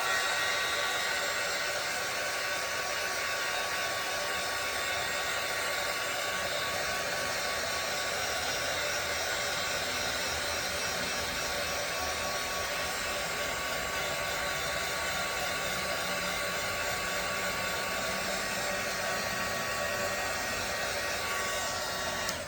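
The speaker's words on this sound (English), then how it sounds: "what I'm gonna do is take the dryer and heat it up a little bit too" A hair dryer runs steadily and loudly for the whole stretch, heating and drying wet paint on an 11x14 canvas, with a constant broadband roar and no pauses or voices.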